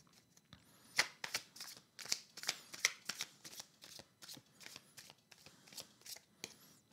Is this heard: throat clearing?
no